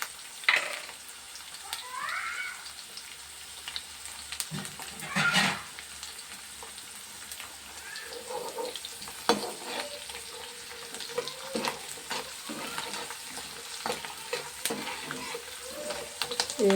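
Food fries quietly in a pan with a soft, steady sizzle, broken up by intermittent scrapes and clinks of stirring. No one speaks.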